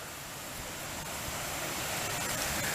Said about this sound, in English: So this was no scrubbing, it's just spraying on there.